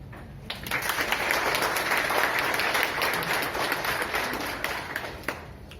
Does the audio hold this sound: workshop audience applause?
yes